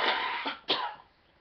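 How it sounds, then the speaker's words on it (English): Two short, tight coughs from a person with a cold, close and fairly soft, the second slightly stronger, followed by quiet. "You can see my cough is a little tighter now"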